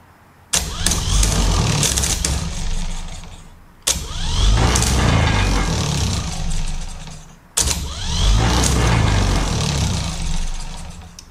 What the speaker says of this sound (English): First turn on your starter.